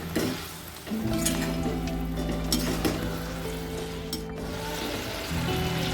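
Fried cauliflower for Gobi Manchurian sizzles in a hot pan while being stirred, with scraping and clinking of a utensil against metal over a steady frying hiss.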